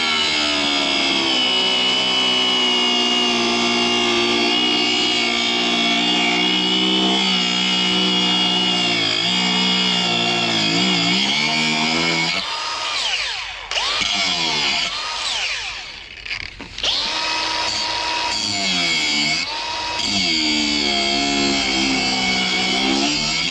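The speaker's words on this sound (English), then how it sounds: "that didn't want to unbolt, so we're going to just cut it off" Power tool cutting through thick steel plate on a tractor mudguard repair, a loud sustained high whine that dips and shifts in pitch as the blade bites, with brief pauses before cutting resumes.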